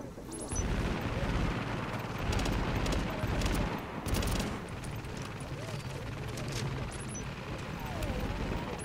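Gunfire and explosions rattle through a refugee camp battle in the video game The Division, dense overlapping bursts and sharp cracks forming a loud, constant barrage, with a voice talking over parts of it.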